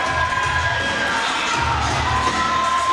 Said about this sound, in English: This crowd is unglued for these guys.